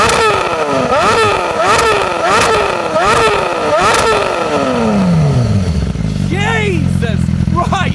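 A BMW S1000RR sport bike fitted with an Austin Racing exhaust revs hard and close up, several sharp throttle blips climbing and falling in quick rhythm before the engine drops back to a rumbling idle.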